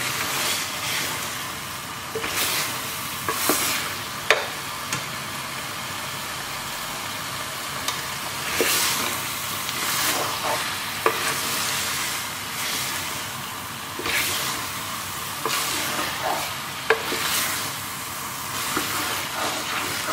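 Pork and masala fry in a pan for Goan sorpotel, a continuous close sizzle broken by recurring scrapes and clatters as a spoon stirs the mixture every couple of seconds, with no talking.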